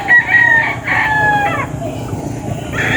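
Early bird Papay Grey gamefowl stags crowing on a farm, several loud nearby cock-a-doodle-doo calls overlapping with clucking and general barnyard background noise.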